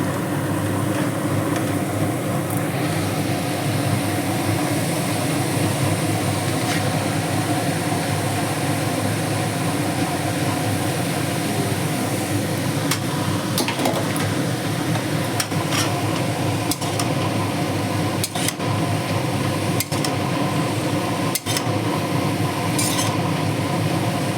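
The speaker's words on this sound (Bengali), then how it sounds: "এখন কেটে ধুয়ে রাখা বাঁধাকপি দিয়ে দেবো।" Cut and washed cabbage stirred in a pan of oil-released spices for a vegetarian dish, a continuous sizzle with scattered utensil scrapes and clinks against the pan.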